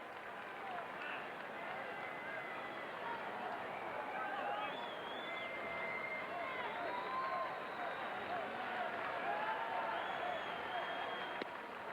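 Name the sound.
Fenway crowd cheering for Jose Offerman at Rangers vs Red Sox game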